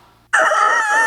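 A man imitates a rooster crowing, breaking a near silence with a loud, strained, sustained cock-a-doodle call close to the microphone.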